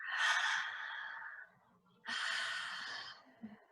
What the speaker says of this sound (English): You grab one wrist and pull it over, and then you breathe into your side for 2.